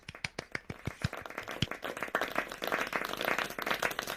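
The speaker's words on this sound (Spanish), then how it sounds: "lo primero que voy a hacer es pedir un aplauso para Corti y para todos vosotros." An audience applauds at an online business talk, opening with a few sharp separate claps that quickly swell into steady, dense applause, loud and close with no talking over it.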